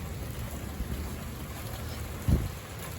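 Steady rain hisses evenly in the background, with a brief low thump or rumble partway through.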